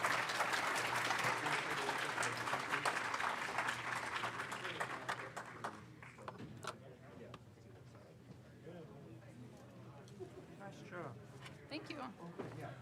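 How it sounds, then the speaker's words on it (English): An audience at a VR and AR conference keynote applauds a speaker, the clapping full and steady at first, then thinning and fading into scattered claps, shuffling and murmured talk. "So one more round of applause"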